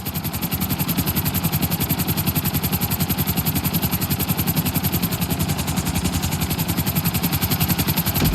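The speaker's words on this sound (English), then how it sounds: "To maximize acceleration, keep the nose of the helicopter tipped." A helicopter in Grand Theft Auto San Andreas flies at speed, its rotor beating in a fast, steady, loud pulse under a continuous engine whine throughout.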